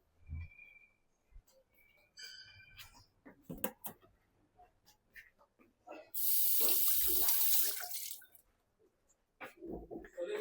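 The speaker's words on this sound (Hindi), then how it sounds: "दोबारा हाथ धो के आ गई मैं" A kitchen tap runs in a loud, steady burst of about two seconds while hands are washed mid-cooking, framed by quieter kitchen clatter and small knocks before and after.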